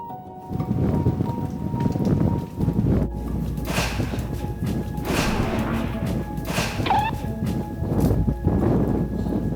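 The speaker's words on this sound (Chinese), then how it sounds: "哇，我想说，突然之间好大风啊！" Strong wind roars and buffets steadily, with gusts swelling and fading and some rustling and knocking underneath.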